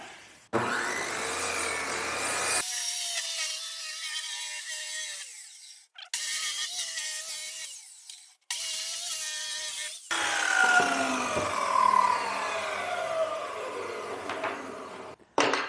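A circular saw cuts along a homemade track saw guide rail, sending loud, sustained whining runs through wood, broken by brief pauses and ending with the motor winding down. No one speaks.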